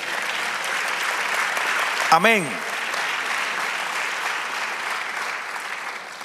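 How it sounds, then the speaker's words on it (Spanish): A church congregation claps steadily and continuously, with a single brief spoken exclamation rising over the applause partway through. "Del aplauso al Señor."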